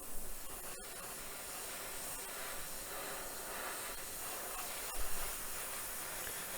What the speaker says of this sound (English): There's the airbrush compressor.